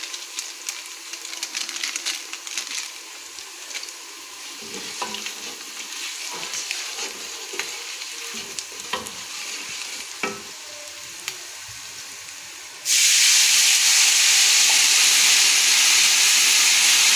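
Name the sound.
yakhni pulao masala frying and being stirred in pot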